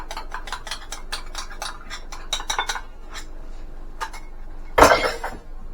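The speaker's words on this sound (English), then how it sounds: "Stir that in there" A spoon stirs sour cream sauce into a keto beef stroganoff mixture in a metal pan, giving a quick run of rhythmic clinks and scrapes, a short pause, then a few more taps and one louder clatter.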